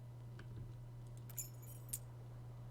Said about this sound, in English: You hear a jingle. Keys are clinging in the pocket of your flare cut.